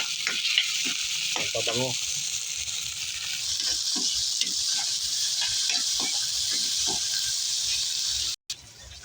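Garlic, ginger, tomato and lemongrass sauté in a pan for squid adobo, giving a continuous loud hissing sizzle with occasional spoon stirs and clinks while someone speaks briefly.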